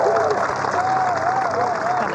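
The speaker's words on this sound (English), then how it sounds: "the crowd showing their appreciation as well" A golf crowd at the women's world championship final round claps warmly after a birdie tap-in, the applause a steady patter heard beneath a commentator talking.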